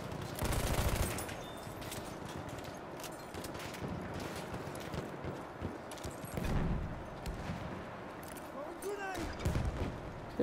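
Gunfire in the Battlefield 1 video game, a weapon firing in bursts with a heavy volley near the start and scattered shots after, set against steady battlefield noise, a voice briefly heard.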